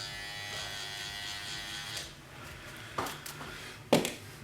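Andis electric hair clippers hum in a steady, close buzz while cutting a fade haircut, with a few brief clicks and scrapes near the end.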